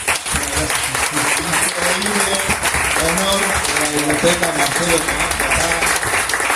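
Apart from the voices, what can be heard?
audience applause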